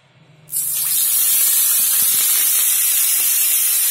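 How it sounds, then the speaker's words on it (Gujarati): Two spoons of milk poured into hot ghee for a mohanbhog sweet: a sudden loud sputtering hiss erupts and holds steady as a sustained sizzle, heard close and alone. "હવે આપણે એને ઉતારીને એમાં બે ચમચી જેવું આપણે દૂધ નાખશું"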